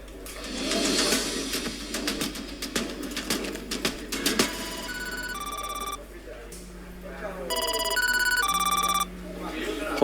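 A telephone rings in repeated electronic bursts of tones partway through, with people talking earlier and a background hum underneath.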